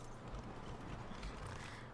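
Horse hooves clopping steadily in Skyrim while riding outdoors, a continuous low rhythmic patter of hoofbeats without speech.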